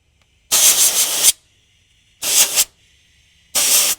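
Three loud bursts of spray from a larger nozzle while restoring a V12 Detroit Diesel, each a harsh broadband hiss lasting about half a second to a second, separated by short silences.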